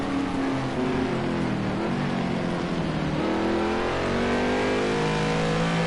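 GT race cars at Snetterton, including a Porsche and a BMW, roar past with loud, sustained engine noise whose pitch climbs and shifts through gear changes as several cars drive on the circuit.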